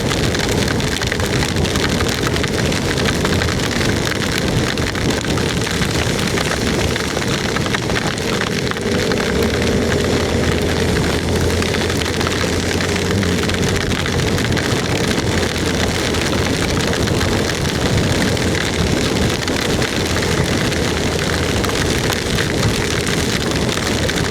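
Heavy tropical downpour near Toli-Toli, Indonesia, roaring steadily and loudly on surfaces throughout, a dense continuous wash with a faint low rumble partway through and no talking.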